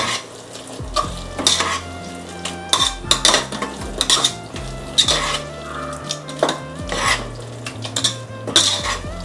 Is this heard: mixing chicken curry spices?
yes